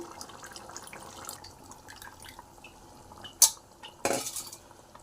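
A ladle clinks and scrapes against a pot while tamarind juice is stirred into a mutton okra curry, with soft liquid sloshing and two sharper metallic knocks near the end.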